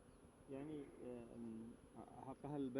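Bees buzz at an opened beehive during beekeeping in Al-Hudayda, Yemen, a dense droning hum with wavering pitch that swells and fades continuously and is loud and near throughout.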